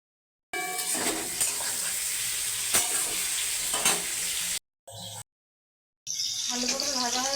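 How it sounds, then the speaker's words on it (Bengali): Potato and pointed gourd pieces fry in hot oil with salt and turmeric in a kadai, a close, steady sizzle with stirring scrapes, broken by brief silent cuts. "নুন হলুদ দিয়ে ভেজে নেব।"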